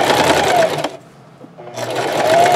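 Sewing machine stitching fabric for a two-color scrub cap, a loud close whir that runs, pauses briefly in near silence, then starts up again.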